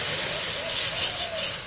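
Milk is poured into a hot butter and flour roux in a wok, giving a loud, continuous sizzling hiss that holds steady for a moment.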